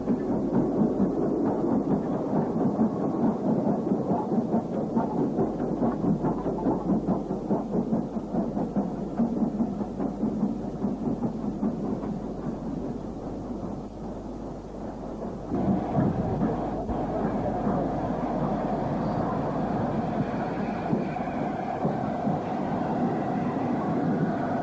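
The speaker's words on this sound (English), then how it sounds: "this is Princess Royal Class 462 locomotive number 46208, Princess Helena Victoria" A Princess Royal Class steam locomotive, number 46208, working at Stechford, heard as a continuous heavy rumble and clatter of the train that dips near the middle and then picks up again, loud and close throughout.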